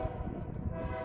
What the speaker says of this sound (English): It's a loud train horn.